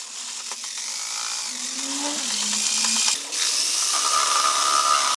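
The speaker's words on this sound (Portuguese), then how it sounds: "Na furadeira, bate por uns 2 minutos." A steady electric drill whine runs continuously for several seconds as a paint mixer paddle churns soap mixture in a bucket, with a mechanical rattling churn and a brief dip in pitch near the middle.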